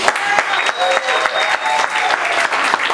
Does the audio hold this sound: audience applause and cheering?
yes